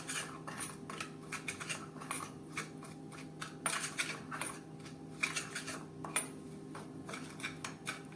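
A spoon clinks and scrapes against a bowl in quick, uneven strokes while a dry spice mix of salt and powdered sugar is stirred together for papad poha chevda, close and fairly quiet, with no talking.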